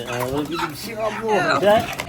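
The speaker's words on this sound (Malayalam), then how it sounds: "ഇത് ഗിരിരാജൻ കോഴി കേട്ടോ" Giriraja chickens clucking and calling close by, a few short rising and falling squawks over a faint background murmur.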